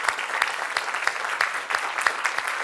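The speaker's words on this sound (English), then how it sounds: "Let's give her a round of applause." Audience applause closing a webinar talk on data science for sales processes, steady dense clapping with sharp individual claps throughout, no voices over it.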